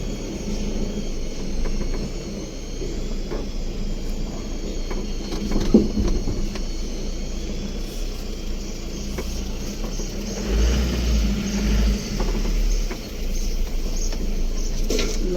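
A Mahindra Bolero pickup truck pulls away: a steady, fairly loud engine rumble runs throughout, with mild revving swells and some mechanical rattles, and no talk.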